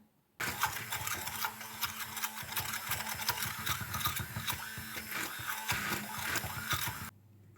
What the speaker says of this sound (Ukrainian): Гарбузу перебити блендером в однорідне пюре.